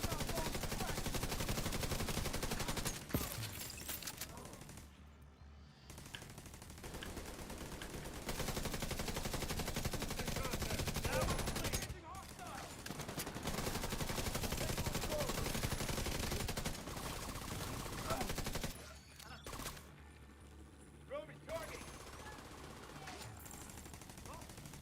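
Sustained automatic gunfire from a deployable turret in The Division 2, dense rapid shots filling most of the stretch with brief pauses between bursts, loud and close.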